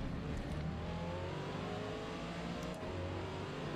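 A race car engine in the Forza Motorsport video game drones steadily at high revs, a continuous moderately quiet whine with slight pitch shifts as the car slides out of a corner.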